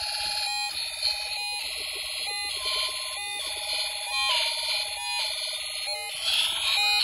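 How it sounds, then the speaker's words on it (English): A Snap Circuits toy circuit speaker switches between a beeping alarm tone and a simple synthesized melody, the two patterns alternating in regular bursts, loud and close. "the speaker is alternating between sound from the music, between music and alarm sounds."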